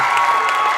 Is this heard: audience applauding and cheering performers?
yes